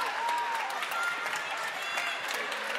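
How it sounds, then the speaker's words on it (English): Spectators applauding at the women's final of the Australian Floorball Open 2014, steady mid-level clapping and crowd murmur filling the whole stretch, fairly distant and even. "Crowd really appreciating this fantastic final from the women here at the Australian Floorball Open 2014."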